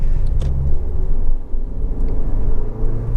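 A car driving over an awful, rough road surface, heard from inside as a loud, steady low rumble of tyres and suspension with occasional knocks over bumps.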